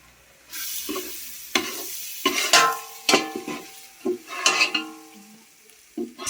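150 grams of crushed ginger fries in hot oil for a large pot of beef curry, a loud, close sizzle broken by repeated scraping stirs of a metal spoon against the pan, with no talking.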